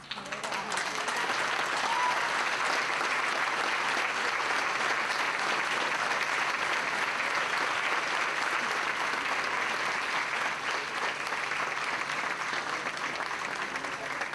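A large audience at a youth recognition awards ceremony applauds fifth graders from Mr. DeGrand's class, a dense, sustained wash of clapping that holds steady for about fourteen seconds with no speech over it.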